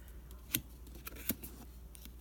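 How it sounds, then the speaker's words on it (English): Scissors snip through a piece of eyelash trim in two or three quick, faint cuts in a quiet room. "Just cut a piece of that."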